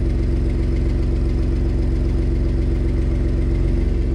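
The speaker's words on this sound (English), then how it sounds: "if it sounds like my engine is ticking, that's because it is" Idling V8-style engine of a crash-damaged Ram 1500 Laramie pickup with a ticking fault, a steady loud low rumble with fine rapid ticking pulses running evenly throughout, close up and with no voices.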